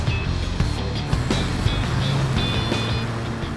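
Interior hum and road rumble of a Ferrari Roma driving along, a steady low drone with small bumps and faint high whines, no talking.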